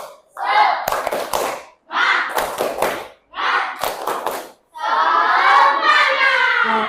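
A classroom of children does a rhythmic spirit clap (tepuk semangat), in three short bursts of clapping mixed with shouted chant, then a longer, denser stretch of clapping and voices at the end.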